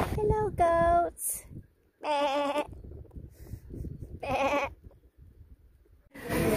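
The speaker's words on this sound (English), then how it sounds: "Hello, goats." Goats bleat in several loud, wavering calls spaced across the clip in Crete, Greece, with quieter rustling and movement between them.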